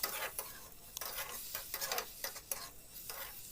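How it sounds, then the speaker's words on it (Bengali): Masala with chopped tomato and sugar is stir-fried in a pan for an omelette curry, with a steady sizzle and repeated scraping strokes of a spatula at an even rhythm, quiet and close. "সবগুলো একসাথে আবার নাড়া ভাজা করে নিচ্ছি।"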